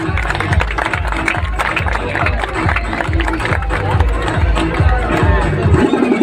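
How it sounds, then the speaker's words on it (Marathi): An audience at an outdoor Ambedkar Jayanti quiz program claps in a dense, rhythmic burst of applause that carries on steadily with crowd murmur mixed in. "टाळ्या होऊन जाऊ द्या"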